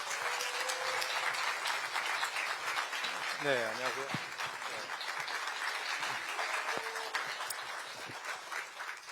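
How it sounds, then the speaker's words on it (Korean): An audience at a book concert applauds to welcome a lawyer, a steady patter of many hands clapping while someone speaks briefly over it partway through. "여러분 박수로 맞이해 주십시오"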